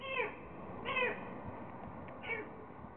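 A kitten stuck in a storm drain meows three times, thin and echoing, with short rising cries spaced about a second apart over steady low background noise.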